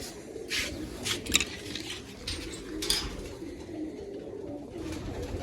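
Sar-Far pigeons keep up a continuous low burbling coo at close range, broken by scattered light taps and clicks that come and go over several seconds.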